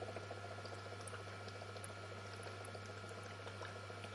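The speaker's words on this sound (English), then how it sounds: "Here it shows how the bubbles look like" Gas bubbles fizz steadily through the electrolyte of a hydrogen electrolysis unit, a dense, continuous hiss with tiny pops, set over a constant low electrical hum.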